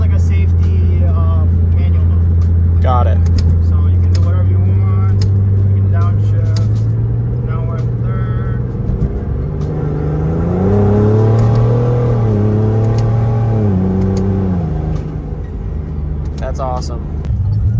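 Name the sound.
turbocharged BMW E36 engine revving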